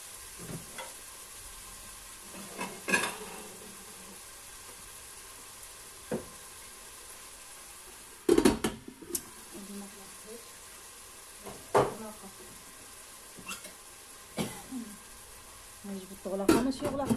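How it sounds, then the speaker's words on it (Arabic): Onions frying in a pan for a Moroccan seffa medfouna, a steady soft sizzle underneath with intermittent clanks and scrapes of a utensil against the pan. "ودابا غنخليو البصله تشحر"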